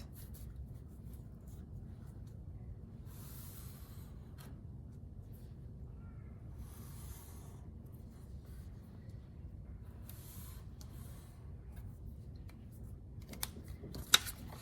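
Scissors cut a triangle out of orange paper for a popsicle stick fox craft, giving several faint, brief crisp snipping bursts spaced a few seconds apart over a low background hum.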